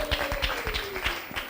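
Audience applause at a Bible quiz show, a steady rhythmic clapping of many hands, moderately loud and continuous.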